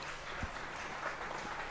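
Crowd at a women's Twenty20 cricket match between Glamorgan Women and Derbyshire Falcons Women applauding a diving boundary stop, a faint, distant, steady patter of clapping with no voices over it.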